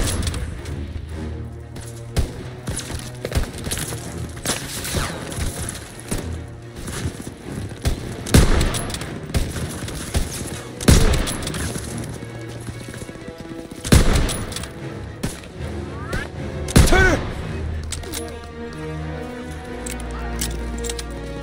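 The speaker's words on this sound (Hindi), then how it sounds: "गलती से गोली चल गई." Gunfire in the PC game Call of Duty WW2 campaign: repeated sharp shots and bursts ring out across the scene, several loud cracks standing out among a steady backdrop of combat noise.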